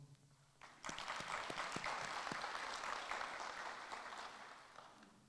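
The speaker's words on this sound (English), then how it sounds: "Kumalo, can you just stand up and then we see him and then give him a round of applause?" Audience at a university postgraduate welcome ceremony breaks into sustained applause after a brief quiet moment, a dense wash of clapping that holds steady for several seconds and then slowly thins.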